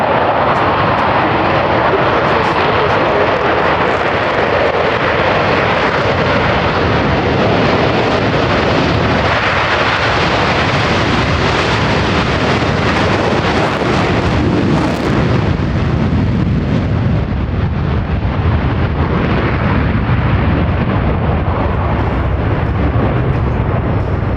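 U.S. Navy Blue Angels jets at the PAX River Air Show roar continuously and loudly with afterburners, a dense sustained blast that swells slightly midway, with no voices over it.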